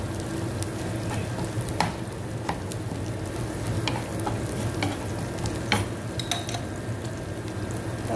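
Sardines being broken up in a pan over heat, a steady close sizzle under scattered scraping and tapping of a utensil against the pan.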